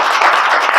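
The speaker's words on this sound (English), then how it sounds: "Round of applause for him." Brief burst of dense clapping from a town meeting audience welcoming a new administrator, steady and loud with no voices.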